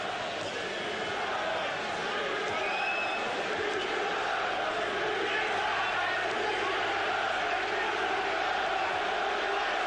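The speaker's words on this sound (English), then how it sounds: "already the crowd are chanting the names of Ben and Eubank" A large boxing crowd at Old Trafford roars and chants continuously through an outdoor night fight, a dense, unbroken wash of massed voices that stays loud and steady throughout.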